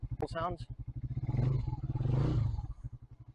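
Skygo Boss 150 motorcycle engine idling with a steady low pulse, then swelling twice as the throttle is blipped, loud and close, with a brief voice at the start.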